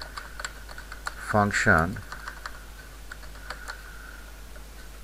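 Keys on a computer keyboard click in quick, light taps at close range, with a short burst of speech partway through while the typing continues around it.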